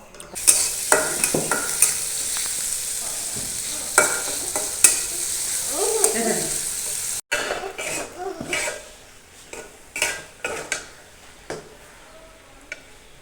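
Boiled chickpeas fry and get stirred in a pan with a continuous sizzle, broken by scraping and clattering strokes of the spoon. A cough and some throat clearing come through close by.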